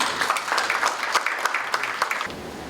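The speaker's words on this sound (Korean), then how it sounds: "모두 박수로 맞아주시기 바랍니다." At a corporate AI partner day event, the audience gives a short burst of brisk, even applause to welcome a presenter, and it stops abruptly near the end.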